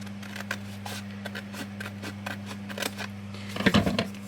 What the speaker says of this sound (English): line that up there, and cut that out.